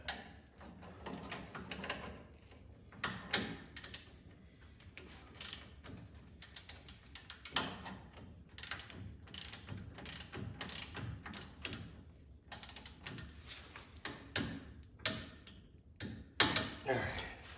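Ratcheting clicks of a torque wrench tightening bolts on a spring install for a 2021 Polaris RZR XP Turbo, coming in short irregular bursts of close mechanical clicking with someone talking throughout.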